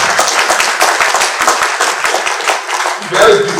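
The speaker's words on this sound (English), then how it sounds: "Give him a round of applause." Audience applause for a distinguished professor at a medical college event, a dense wash of clapping hands filling the room, loud and sustained throughout with a brief swell near the end.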